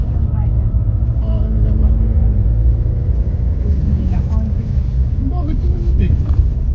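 A jeep's engine rumbles steadily from inside the vehicle during a road trip from Baler, Aurora toward Gabaldon, with low, constant road noise under passengers talking throughout.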